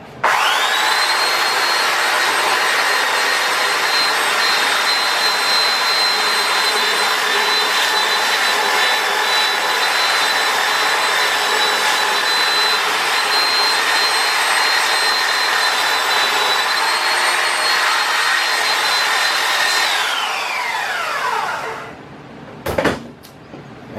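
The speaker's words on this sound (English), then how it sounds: "I'm going to take some really rough 40 grit sandpaper on my belt sander, and I'm just going to touch it to give it that rough look." A belt sander with coarse 40-grit paper roughens live-edge wood in a long, loud, steady grind that runs unbroken for about twenty seconds, then winds down and stops.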